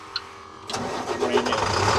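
An International 4300 truck's engine is started: a brief starter crank catches and settles into a steady, loud mid-pitched idle rumble, close by with no talking.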